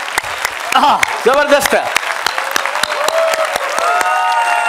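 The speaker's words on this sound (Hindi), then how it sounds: "एक बार जबरदस्त तालियां सबके लिए।" Audience applause at a live motivational tour event in India, clapping throughout under a man's loud, excited speech and cheering.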